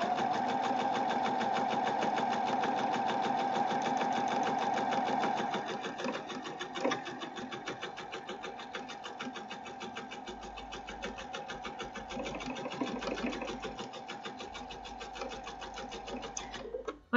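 A sewing machine runs a straight seam on a dress, a steady fast mechanical whir and needle chatter that slows slightly partway and continues at a lighter pace to the end, close and alone.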